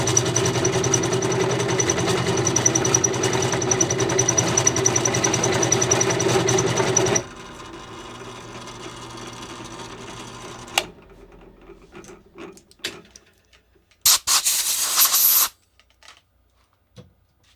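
Trophy truck control arm being machined with cutting oil, a steady loud mechanical whir and hum that drops to a lower drone, then stops with scattered clicks and a short burst of hiss.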